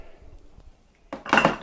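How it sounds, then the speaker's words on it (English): Ceramic crock pots and lids from a Megachef 2.5 quart three-pot buffet server slow cooker clink and knock together, a short cluster of loud clattering handling sounds after a quiet moment. "you're gonna get 3 total pots, which are basically like crock pots"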